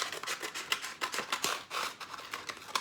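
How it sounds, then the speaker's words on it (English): Scissors snip through fabric to cut away a center piece, a quick series of close, crisp cuts and rustling strokes in a quiet room. "I'm just going to cut off like the center"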